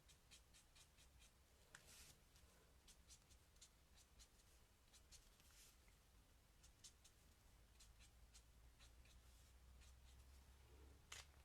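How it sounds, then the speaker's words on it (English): A felt-tip pen traces along sketched pencil lines on a stamped card, giving soft, faint scratchy strokes in a quiet room with brief pauses between them. "I'm just using the sort of felt tip end to just follow that sketched lines around"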